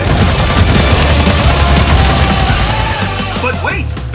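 Dense, loud gunfire and booming blasts from shooting in the video game Battleborn, rapid bursts overlapping continuously in a chaotic battle mix with music beneath.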